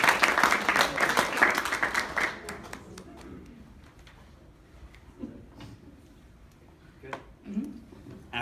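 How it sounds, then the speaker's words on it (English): An audience applauds its readers at a staff talk, a burst of dense clapping for about two seconds that quickly fades into scattered taps and faint room noise with a few soft thumps. "One more round of applause."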